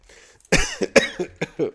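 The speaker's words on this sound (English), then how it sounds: "you're making me cough" A burst of harsh, close coughs, four or five in quick succession, loud and raspy.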